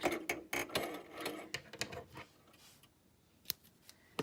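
Scissors snip through yarn threads on a Brother CV3550 knitting machine, a quick run of sharp close clicks and cuts at the start, then quieter with a couple of isolated snaps later.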